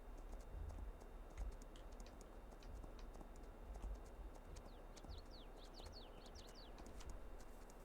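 Horse hooves clip-clop at a steady walking rhythm while a horse is ridden on a 1960s roleplay farm in a video game, faint and even throughout, with birds chirping softly in the background.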